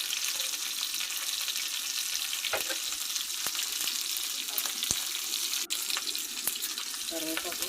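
Ginger frying in oil in a pan, a steady hissing sizzle throughout with occasional clicks and stirring knocks, close and moderately loud, no talking.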